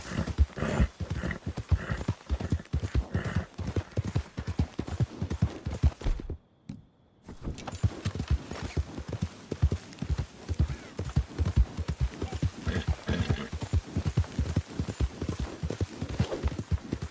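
Horse hooves gallop steadily in Red Dead Redemption 2, a fast, even clip-clop rhythm that runs close and loud, breaks off for a moment of near silence, then resumes at the same pace.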